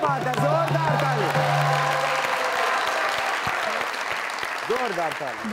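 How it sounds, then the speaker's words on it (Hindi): Studio audience at a comedy talk show applauding loudly and continuously, with a host's voice and sustained vocalizing layered over the dense clapping. "जोरदार ताली"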